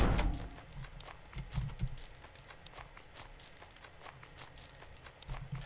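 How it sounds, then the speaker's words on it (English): Footsteps on a floor paved with wooden planks in the online game Wurm Online, a steady run of soft thuds and clops at walking pace, fairly close and moderately loud, without speech. "This footstep here sounds different than when I'm in the house"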